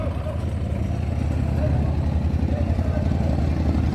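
A motorboat passes on the lake at Küçükçekmece, its low engine drone thickening and growing closer while someone talks over it.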